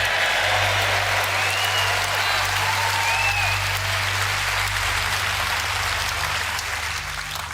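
An audience at a Reform UK political speech in London applauds loudly and steadily, a dense continuous wash of clapping with faint crowd murmur that holds at full strength throughout.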